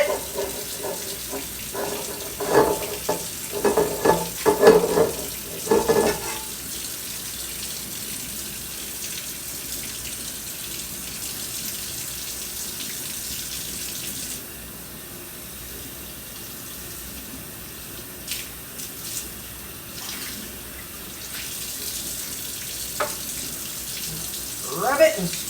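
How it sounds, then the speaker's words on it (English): Stripped bare cast iron pan scrubbed with an SOS pad under a running tap; splashing and rough scrubbing bursts come early, then steady water flow with scattered scrapes and clanks, and a voice talks briefly near the start. "I have a SOS pad here. I'm just going to scrub it."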